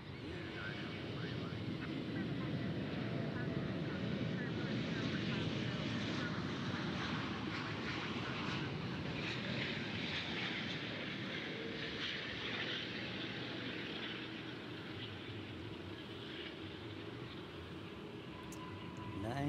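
A heavy airliner landing at DFW airport, heard as a steady, loud broadband engine roar with wind rush that holds throughout and eases slightly toward the end, with a voice talking over it.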